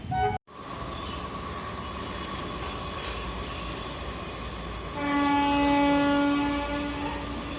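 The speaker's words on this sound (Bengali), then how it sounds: "Express train." An express train at Santragachi station platform in Howrah, West Bengal, rumbles steadily and loudly, then sounds a long, sustained horn that swells for a second or two and fades out near the end.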